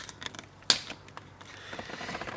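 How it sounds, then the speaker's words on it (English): Small wire cutters snip through a plastic tie wrap inside a Ferrari 360/430 center console, giving one sharp, close click followed by faint rustling and handling noise. "you just got to get in there with a little, wire cutters and just cut the tie wrap"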